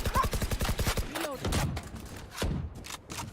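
Rapid bursts of gunfire from a tactical shooter video game, a quick run of closely spaced shots followed by scattered single reports and game effects, loud and close, with occasional speech mixed in.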